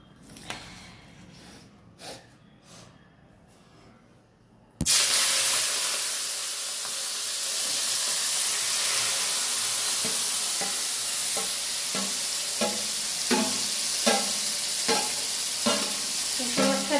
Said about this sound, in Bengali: কড়াইতে তেল দিয়েছি, দিয়ে লইট্টা মাছটা দিয়ে চেপে দেবো।